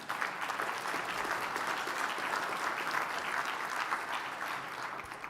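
A breakfast meeting crowd of mayors and business leaders claps steadily in a faint, even applause that holds for about five seconds.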